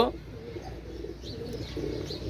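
A pair of Pakistani Rampuri pigeons gives soft, low cooing phrases over a quiet background, close by and fairly faint, with a brief sharper noise at the start.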